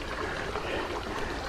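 Small creek about a foot and a half deep flowing under a park bridge in a state park, a steady broad rushing and trickling wash heard continuously from close by.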